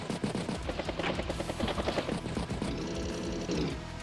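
Rapid rattling machine gun bursts from an Advance Wars battle animation, dense and continuous, with a buzzing mechanical tone toward the end.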